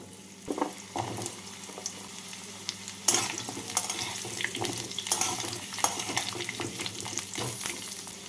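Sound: chopped pumpkin and vegetables added to hot oil, frying

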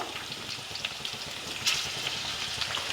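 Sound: garlic frying in a pan

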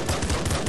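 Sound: grenade launcher firing in the video game Nuclear Throne

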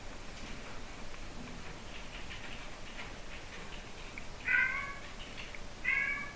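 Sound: cats meowing

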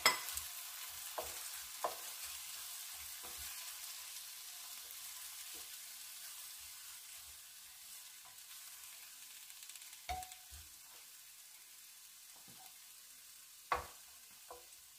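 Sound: mixed vegetables frying in a little oil

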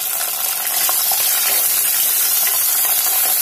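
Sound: garlic and shallots frying in a pan

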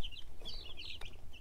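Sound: young Brahma chickens clucking

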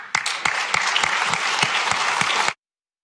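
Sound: audience applauding and cheering

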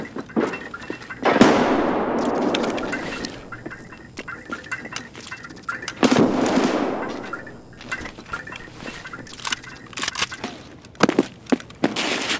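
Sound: grenade explosion in the video game Escape from Tarkov

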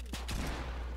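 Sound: gunfire in a video game

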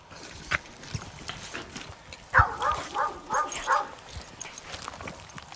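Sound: dogs barking and whimpering during rat hunt

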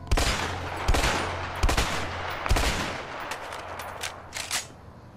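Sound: pump-action shotgun firing in video game A Way Out

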